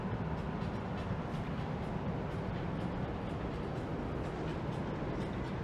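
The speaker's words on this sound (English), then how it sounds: "And there goes the SkyTrain underneath." Bangkok's elevated SkyTrain passing below, heard from above as a steady, even rumble that holds at a moderate, somewhat distant level throughout.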